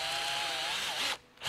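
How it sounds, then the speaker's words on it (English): A power drill bores through polycarbonate sheet for a Corvette Z06 spoiler and wing, a continuous high whine that drops out briefly near the end and then resumes, close and loud. "you want to kind of drill it the same way"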